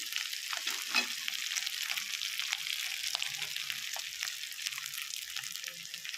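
A vegetable bhaji fries in oil in a wok as a soft, steady sizzle with faint scraping stirs, fairly quiet and continuous throughout.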